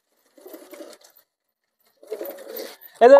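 Pet pigeons coo softly at close range during feeding, two short low murmuring bursts separated by a pause, then a person's voice cuts in at the end.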